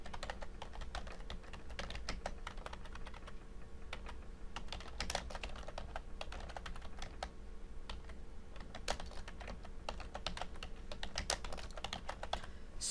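Steady, continuous typing on a computer keyboard while editing text in a website slider builder, with dense, even key clicks and no talk.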